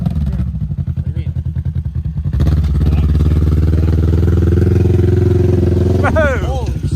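A motorcycle engine stuck in mud drones low and steady, then swells louder and rougher as it revs hard and holds; a brief whine rises near the end, with people talking and exclaiming around it.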